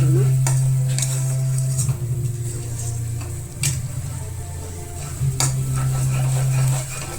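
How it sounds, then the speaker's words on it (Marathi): Masala roasting in a pan with dry mutton curry, a sizzle beneath repeated metal scrapes and clinks of a spoon stirring against the pan, near and fairly loud, with a steady low hum behind. "तो आपण ह्याच्यात घालतोय सुक्या भाजीमध्ये. तोही चांगला भाजून घ्यायचा मसाला."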